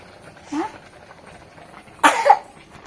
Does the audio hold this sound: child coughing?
yes